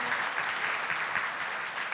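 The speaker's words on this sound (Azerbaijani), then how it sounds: "Məncə ən kreativ təqdimata daha gürültü alqışlar layiqdir." An audience at a sales forum presentation claps steadily and fairly loudly, a dense, even round of applause lasting throughout.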